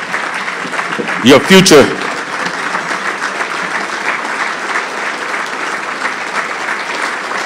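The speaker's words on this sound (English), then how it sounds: "Come on, give them a big round of applause." A banquet audience at a Labour Day dinner gives sustained, loud applause from a large crowd of clapping hands. A voice speaks briefly over it through an amplified system early on.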